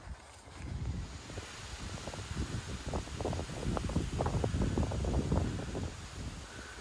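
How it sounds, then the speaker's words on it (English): Gusty wind rushes through trees on the Appalachian Trail in Connecticut or Massachusetts, rising in strength partway through, with rustling and buffeting against the microphone. "Really windy right now."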